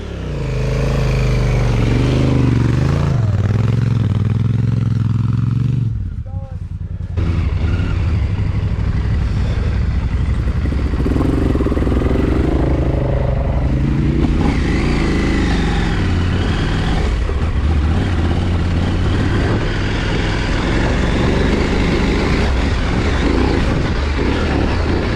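KTM 890 Adventure motorcycle ridden on a beach, its engine a loud, close, continuous drone with rising and falling throttle and wind buffeting, one brief dip in the middle.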